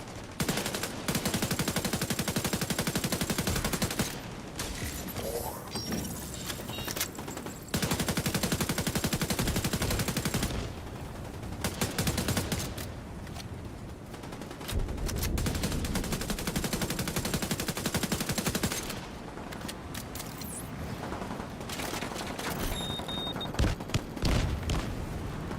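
Automatic weapon fire in the shooter video game The Division 2, loud sustained bursts of rapid shots broken by short pauses, close and dominant with no talk.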